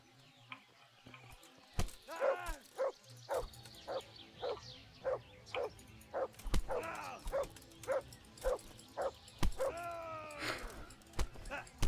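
A dog in the medieval village world of Kingdom Come: Deliverance barks and yips in a long run of short, evenly spaced calls, with fainter whimpers among them, heard under a person talking.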